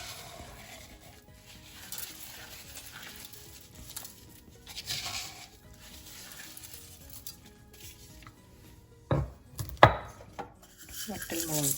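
Fennel seeds are crushed in a kitchen with quiet, irregular pounding and grinding knocks, faint at first, then a few sharper, louder hits near the end.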